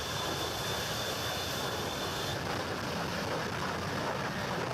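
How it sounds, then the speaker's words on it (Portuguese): An airplane with two rear-mounted jet engines roars as it powers up, a loud, dense, continuous rush with a high whine fading midway, with no talk. "O avião tinha 2 motores traseiros capazes de lançar sobre a areia uma corrente de ar a mais de 300 km por hora."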